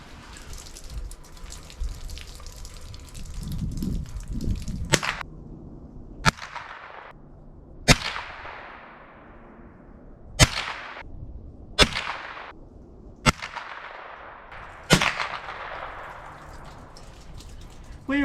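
Marlin Model 60 rifle shots fired at 35 yards, seven sharp, loud cracks spaced a couple of seconds apart, each followed by a short ringing decay, with water-like noise early on.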